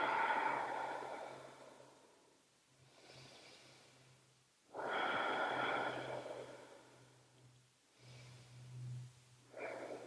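Slow, deliberate yoga breathing during a lower-back stretch, with long airy exhales and inhales alternating in a steady rhythm, close to the microphone, with no talking over it.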